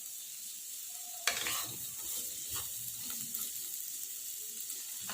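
Sweet mixed fried rice for Diwali being stirred in a pan, with a spatula scraping and knocking through a steady hiss of frying, close and continuous, without talk.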